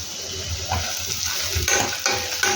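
Fresh ginger garlic paste frying in a pan gives a steady, close sizzle, with soft scraping and stirring clinks from a spoon. Its sound rises in a few brief bursts.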